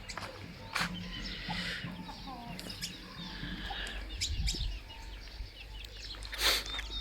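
A hen clucking near her chicks on a rural farmyard after rain, with repeated soft clucks and small chirps scattered over background noise and a few sharp knocks.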